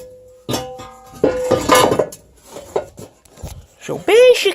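A welded metal oil pan being set in place on a Porsche 944 1.8t, with sharp metallic clanks, scrapes and a ringing tone from the pan being handled, between pauses.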